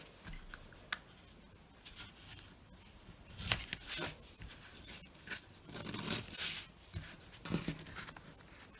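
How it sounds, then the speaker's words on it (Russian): Packing tape being cut open on a cardboard parcel of banknotes, with irregular scratchy tearing and snipping noises in short bursts, fairly close and quiet, no talking. "Разрежем скотч."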